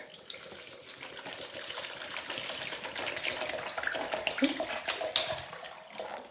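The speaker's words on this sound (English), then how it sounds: "Let's go ahead and put the water in." Tap water running and splashing into a small bucket on a bathroom counter, a steady broadband gush that swells and roughens toward the end, heard fairly close with no talking.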